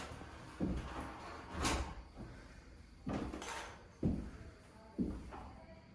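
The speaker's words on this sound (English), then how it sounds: "I'm shutting the door." A door in an abandoned 1850s house is pushed and shut, giving several soft wooden thumps and creaks at irregular intervals against a quiet room.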